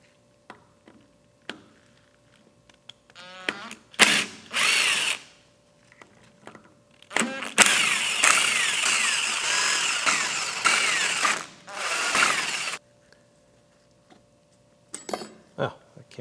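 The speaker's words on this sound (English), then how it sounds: "Next thing we want to do is remove these 9 T27 bolts that are holding a metal plate that keeps the solenoids in place." Power driver spinning out nine T27 Torx bolts from the metal solenoid retaining plate on the mechatronics unit of a Land Rover LR3 6HP26 automatic transmission; loud, close whirring bursts of varying length separated by quiet pauses and small clicks.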